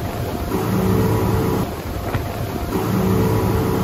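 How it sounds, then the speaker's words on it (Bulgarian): Motorboat engine droning steadily, first with a standard propeller and then with a toroidal propeller, a continuous loud hum with a brief dip in level midway before it resumes. "Така звучи една стандартна лодка. А така звучи с тороидални."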